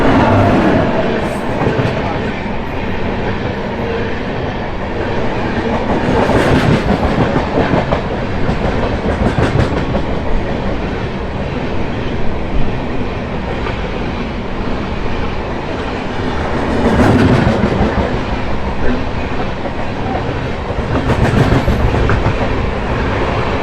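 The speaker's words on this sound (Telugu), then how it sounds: "విజయవాడ నుంచి లింగంపల్లి వరకు వెళ్ళే ఇంటర్సిటీ సూపర్ ఫాస్ట్ ఎక్స్ప్రెస్." The 12795 Vijayawada–Lingampalli Intercity Superfast Express rolls past near Cherlapalli railway station, a long steady rumble with rhythmic clickety-clack of wheels over rail joints, loud and close throughout.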